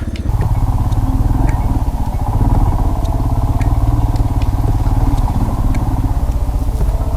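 An off-road motorbike rides through a rut on a trail, its engine a steady, close, loud drone with clattering and knocking from the ground throughout and no talking.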